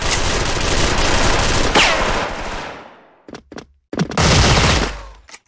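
Loud, close bursts of rapid MP9 submachine gun fire in the shooter game Special Force, two long sustained volleys broken by a few short isolated shots.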